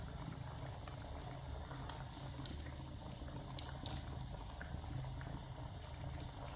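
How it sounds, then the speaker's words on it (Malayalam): Sardine curry with ground coconut bubbles in a clay pot on a wood-fired stove, giving a soft continuous simmering hiss with faint crackles. "ഇപ്പോൾ നമ്മളെ മീൻകറിയെല്ലാം തിളച്ച് വരുന്നുണ്ട്"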